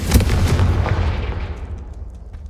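The Confringo fire spell in Hogwarts Legacy sets off a loud, booming blast. The heavy, explosive burst at the start rumbles and fades away over about two seconds.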